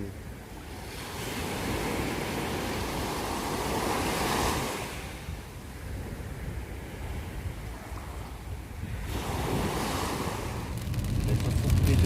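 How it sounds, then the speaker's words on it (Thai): Ocean waves roll onto a beach in Busan, a continuous wash of surf with two broad swells of crashing water, under steady wind noise on the microphone. "ก็เลยเอาเสียงคลื่นมาฝากทุกคนนะคะฟังแล้วจะได้รู้สึก สดชื่นนะคะ"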